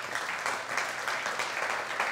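A studio audience applauding on a TV music program, a steady pulsing wash of many hands clapping, fairly faint and distant, with no voices over it.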